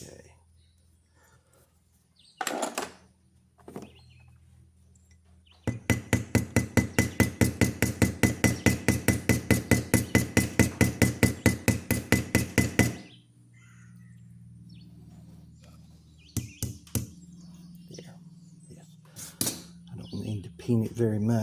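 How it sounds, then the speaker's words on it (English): A hammer peens the pin of a Western Hunter pocket knife in a rapid, even run of about forty sharp metallic taps, preceded and followed by a few scattered single knocks and quiet handling sounds. "Need to peen it very much"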